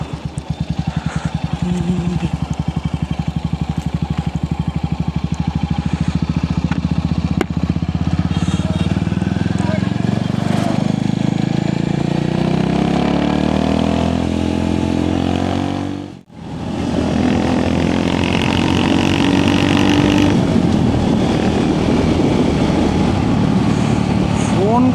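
A new motorcycle's engine runs nearby at a petrol pump, a steady loud drone that shifts pitch as it revs, with a brief dip partway through and voices mixed into the noise.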